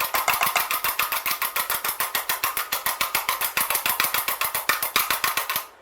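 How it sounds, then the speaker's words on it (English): Egg white is whisked for icing with rapid, even, loud rhythmic strokes, a steady rattling beat that runs for several seconds and then stops. "just whisk the egg white for about"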